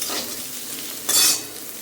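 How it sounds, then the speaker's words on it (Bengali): Vegetables stirred and frying in a pan, a steady sizzle with scraping stir strokes, one louder burst of hiss near the end; close and alone, no talk. "প্রথমে একটু ভাজবো, তারপরে নুন দিয়ে হলুদ দিয়ে ভাজবো"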